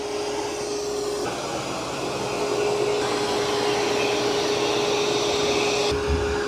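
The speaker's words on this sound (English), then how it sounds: "Pretty good job of vacuuming." An ECOVACS DEEBOT N20 Plus robot vacuum runs across the floor with a steady, close whirring drone and a constant motor whine, shifting slightly in pitch as it moves, with no talking.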